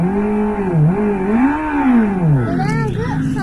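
Revolt RV400 electric motorcycle playing its artificial engine sound, a loud continuous synthetic roar that rises and falls in pitch like revving, with a brief higher warble toward the end.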